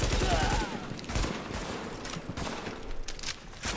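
Sustained gunfire in the video game Tom Clancy's The Division, dense overlapping shots and bursts with broadband cracks throughout, loud and continuous, mixed with game sound and some voice.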